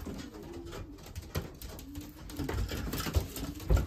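Racing pigeons coo softly inside a loft, low repeated coos among light shuffling and wing movement, close and fairly quiet with no talk.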